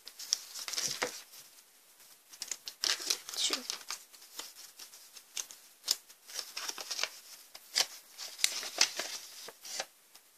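Plastic packaging is crinkled and torn open up close, in irregular bursts of sharp crackling and rustling, quiet overall with brief pauses between handlings.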